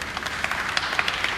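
A church congregation clapping together in steady, fairly loud applause with sharp individual claps standing out, filling the space without any talk over it.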